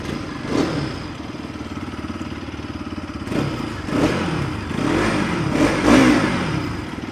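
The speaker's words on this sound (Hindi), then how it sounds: "RS200 में एक चीज़ मुझे बहुत अच्छी लगती है कि लो RPM पर बैक इतना बढ़िया साउंड निकालती है" A 2025 Bajaj Pulsar RS200 motorcycle revs close by from a low-RPM idle, with several throttle blips rising over a steady, loud engine note.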